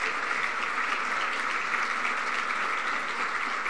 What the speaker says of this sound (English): the rest of us please acknowledge them with a round of applause